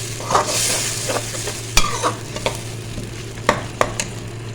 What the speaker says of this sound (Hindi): ये लीजिए जी, मसाला हमारा बहुत अच्छे से भुन गया